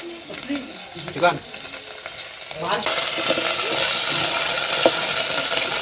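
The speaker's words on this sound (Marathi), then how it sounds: "तेल टाकलंय लसूण टाकून घेऊया आणि त्याच्यामध्ये टाकायचं आहे तेल पत्ता" Garlic and bay leaf hit hot oil and burst into a loud, continuous frying sizzle that stays strong to the end, after a few seconds of clattering and brief talk.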